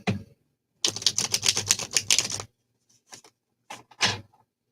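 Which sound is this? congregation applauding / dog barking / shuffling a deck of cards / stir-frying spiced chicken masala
shuffling a deck of cards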